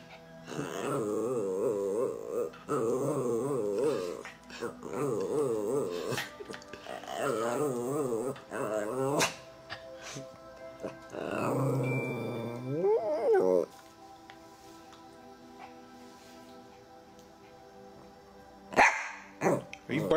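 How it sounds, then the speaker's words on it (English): A dog barking and whining in a run of wavering, yelping bursts, with short pauses, then quieter stretches and a final sharp bark. "Are you barking at the cookie?"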